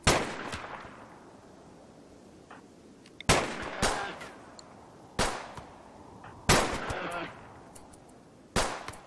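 Colonists firing guns in the video game Rimworld: several sharp, loud shots in separate bursts, each with a short ringing decay, spaced a second or two apart over a low background.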